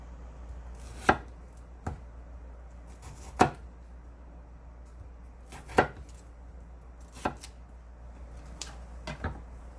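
A knife chops a watermelon on a cutting board in sharp, spaced strokes, about seven cuts with pauses between, close and clear with no talking.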